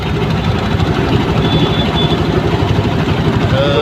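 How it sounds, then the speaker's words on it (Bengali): A fishing trawler's engine chugs steadily and loudly nearby on a river in the rainy season, a low, continuous, throbbing drone. "আমাদের পিছন দিয়ে আরেকটা নৌকা চলে যাচ্ছে, মাছ ধরার ট্রলার এটা।"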